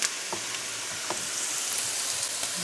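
Pounded garlic and pepper with chopped onions sizzle steadily in a pan for veggie fried rice, a close, dense frying hiss with a few faint stirring clicks and no speech.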